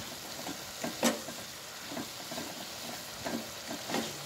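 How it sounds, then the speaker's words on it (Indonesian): A few light scrapes and clinks as stir-fried green beans and meatballs are stirred in a pan, over a gentle continuous sizzle, heard close with no talking. "Kita aduk."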